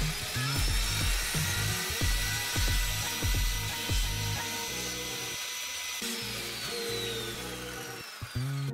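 A Mc Kenzie 1400W circular saw runs steadily through a straight cut guided along a rail after a soft start, with a loud, continuous whine over dense rumbling and rattling, and no voices.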